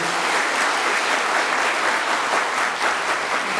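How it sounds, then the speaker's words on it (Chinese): A church congregation applauds together during a Taiwanese-language worship service, a steady, dense clapping that fills the room at even loudness for several seconds with no voices over it. "咱鼓掌来"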